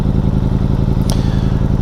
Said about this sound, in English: When you come to a standstill, you can hear the engine shift between the different cam positions.